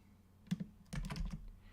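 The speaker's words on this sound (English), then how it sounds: "I'll just type it in real quick" Quick burst of typing on a computer keyboard, a short cluster of clicks followed by a denser run of keystrokes, close and fairly quiet with no talking.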